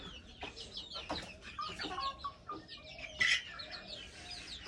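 Native roosters on a poultry farm cluck and squawk nearby in short, irregular bursts, several birds overlapping, with one louder sharp call partway through.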